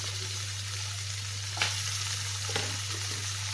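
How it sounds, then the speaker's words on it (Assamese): Potato pieces and onions sizzle steadily in hot oil in a pan while a fish curry is being cooked, with a couple of soft stirring scrapes and no talk. "মই এতিয়া আলুখিনি অলপ ফ্ৰাই হোৱাৰ পিছত মই ইয়াত এড কৰিছোঁ পিঁয়াজ"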